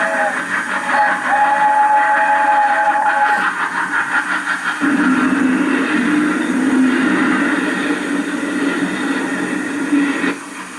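South African Railways Blue Train steam locomotive running on 3'6" gauge track, a steady loud rumble with a whistle-like tone early on, heard from inside the leading coach.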